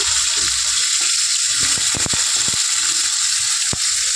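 Onion frying in hot oil for Bengali chicken kosha, a steady loud sizzle and hiss throughout with a few sharp crackles and pops, no talking.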